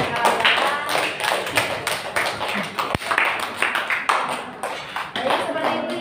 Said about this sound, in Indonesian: ya tepuk tangan untuk Akbar dan kawan-kawan.